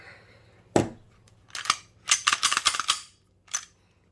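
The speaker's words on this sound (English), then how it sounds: "let's go ahead and make this weapon safe." Beretta pistol being handled and cleared at a table: a sharp metallic click, then a burst of rapid clacks and racking snaps, and one final click, all close and crisp with no talking.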